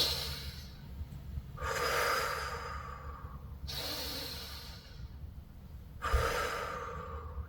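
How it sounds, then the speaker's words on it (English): Deep belly breathing as an exercise: three slow, long, airy breaths, each a loud, hissing exhale rising and fading, with quiet pauses between them and no talking. "It's the deep breathing exercise from your belly"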